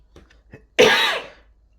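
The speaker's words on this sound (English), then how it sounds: "I'm sorry for the coughing, by the way." A single harsh cough or throat-clearing bursts out after a few faint breaths, close and fairly loud, then fades.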